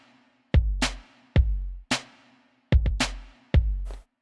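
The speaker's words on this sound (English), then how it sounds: "So the kick and the snare sounds like this." A programmed hip-hop drum beat made of a punchy kick and a sharp snare alternates in a sparse pattern, with about seven loud, clean hits over four seconds and nothing else.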